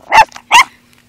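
A dog barks twice, close and loud, two sharp, evenly spaced barks followed by quiet.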